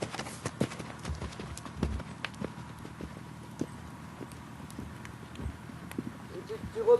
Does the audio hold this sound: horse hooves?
yes